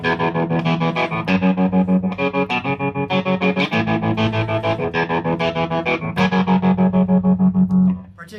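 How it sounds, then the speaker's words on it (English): Electric guitar run through a tremolo pedal set to a hard square wave, chords chopped into rapid even on-off pulses, loud and close with no voices, cutting off at the end. "The tremolo pedal sounds like this."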